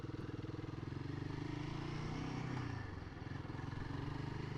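A Royal Enfield Guerrilla motorcycle cruises through town, its steady engine drone and low exhaust pulse running continuously and fairly loud throughout, with a brief dip midway before picking back up.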